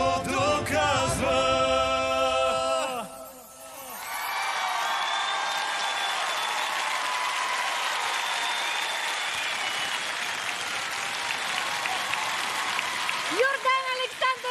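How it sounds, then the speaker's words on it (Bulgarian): Audience applause after a team performance on a Bulgarian TV talent show, steady clapping filling most of the clip and following music with voices at the start. "аплодисменти за Funky Monkeys"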